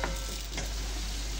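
Potato pieces frying in hot oil for aloo dum, giving a steady close sizzle with light stirring scrapes near the start and again around the middle, no voices.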